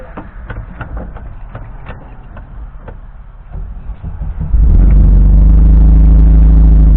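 An engine in a car with a faulty transmission ticks and clatters at low volume, then catches and starts with a sudden loud jump into a heavy, rumbling idle that continues to the end.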